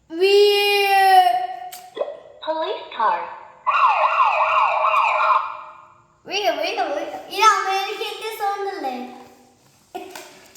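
A voice imitates rising and falling siren wails in several short bursts, mimicking toy police car and ambulance sirens.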